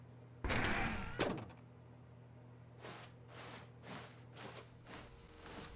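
A door in The Stanley Parable video game, a loud mechanical swoosh and clunk as it opens, followed by a series of softer rhythmic footstep-like thuds fading into quiet room tone.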